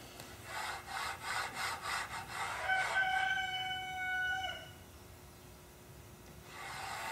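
The bearing of an 8 ball slider rolls along its track, making a series of rough, rhythmic scraping strokes up close. The strokes then give way to a brief squealing whine and a quieter rumble.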